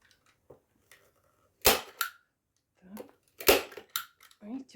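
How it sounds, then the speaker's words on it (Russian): A staple gun fires staples into a frame of rolled newspaper tubes for a shoe pouf, giving a few sharp close snaps, two loudest, separated by quiet gaps and light handling noises. "Видите, плохо уже скобы стреляют."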